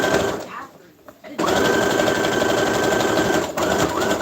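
A sewing machine stitching fabric, a rapid mechanical rattling hum that pauses briefly, then runs steadily and loudly close by, while someone talks over it.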